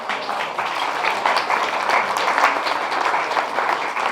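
Warm, sustained applause from a gala celebration audience on St Eustatius for singers, many hands clapping at moderate loudness without interruption.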